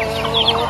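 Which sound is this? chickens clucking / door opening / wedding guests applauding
chickens clucking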